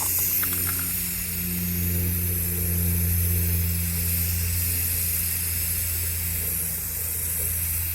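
Steady hiss of a spray gun applying paint to a Toyota Yaris converted into a small camper, a continuous airy spray over a low mechanical hum, close and even throughout with no talking.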